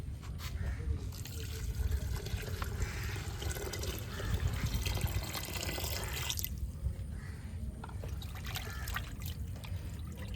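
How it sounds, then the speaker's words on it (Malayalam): Water pours into a large pressure cooker with a continuous splashing trickle that changes tone as it fills, close by, with a low background hum and light talk at moments. "കുറച്ച് വെള്ളം നമുക്ക് ഒഴിക്കാം"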